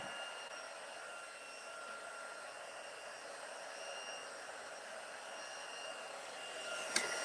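A heat tool blows steadily over embossing powder as it melts, a faint, even airy hiss held for several seconds with a small click near the end.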